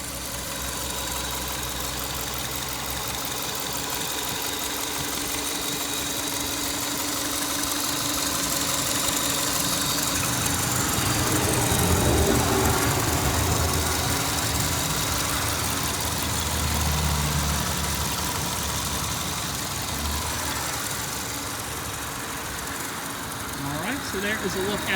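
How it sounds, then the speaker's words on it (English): A 2004 Subaru Legacy L wagon's 2.5-liter four-cylinder engine idles steadily and fairly loud throughout, a continuous low hum with a slight swell in the middle, with no talking over it. "I'm just gonna be quiet and let you guys listen to the motor."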